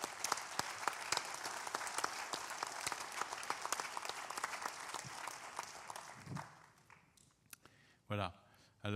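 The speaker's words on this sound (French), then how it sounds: "Et je veux bien que vous les applaudissiez." An audience at a closing plenary session of a mental health conference applauds the speakers with steady, dense clapping that fades out toward the end, followed by a brief voice.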